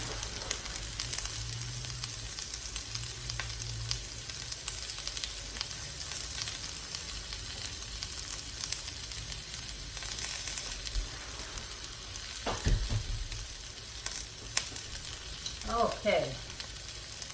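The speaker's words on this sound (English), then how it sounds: "we are roasting some, not roasting, but stir frying up some onions" Onions stir-frying in a pan with garlic for pepper steak, a steady crackling sizzle with occasional scrapes of stirring, heard close up; a person says a brief word.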